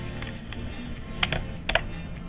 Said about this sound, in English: That is the sound of the film leader coming off of the film spool and lets you know you're almost done